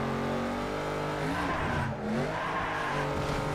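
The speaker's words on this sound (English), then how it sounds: "It's engine sounds." Car engine in a racing video game: a loud, steady engine roar fills the whole stretch, its pitch dipping and climbing briefly around the middle as if shifting or easing off, with a faint tire-squeal edge.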